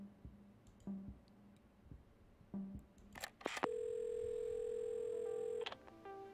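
A telephone is handled and dialed in the video game Assemble with Care: soft clicks and taps, then a sustained steady tone lasting about two seconds before more light clicks.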